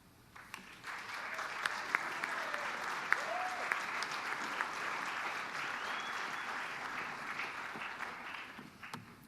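An audience at a neighborhood business awards event applauds steadily for a speaker, a dense, even wash of clapping from a room of people that holds for several seconds before easing off.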